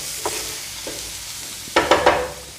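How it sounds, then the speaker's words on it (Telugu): Sliced onions with a little salt fry in a pan, a low sizzle broken by a couple of light scrapes and then three sharp, close stirring strokes near the end, with no talk. "ఉల్లిపాయని చక్కగా వేగనివ్వాలి, కొద్దిగా కలర్ మారేంత వరకు వేగనివ్వాలి."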